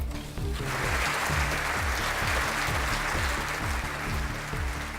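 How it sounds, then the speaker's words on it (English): Applause from both sides of the House of Commons, a steady dense clapping wash at moderate level, with low tonal hum underneath. "And applause from both sides of the House"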